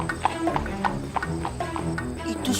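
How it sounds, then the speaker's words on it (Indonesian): A horse's hooves clop in a quick, regular rhythm, fairly close, with distinct sharp strikes and a faint murmur of background sound underneath. "Itu suara kaki kuda."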